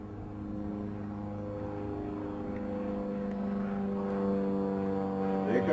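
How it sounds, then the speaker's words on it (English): An aerobatic propeller aircraft flies maneuvers at an airshow, its engine a steady, droning hum with clear tonal harmonics that grows slightly louder toward the end. "The aircraft is now pulling up for its farewell maneuver, which is quarter clover."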